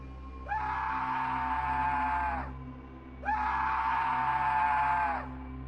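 Two long, drawn-out screams come from far off in the distance. Each lasts about two seconds, with a short gap between them, over a low, steady background hum.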